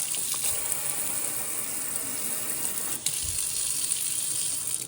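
Water runs steadily from a filtered drinking-water faucet into a kitchen sink, a continuous close hiss and splash with no voices.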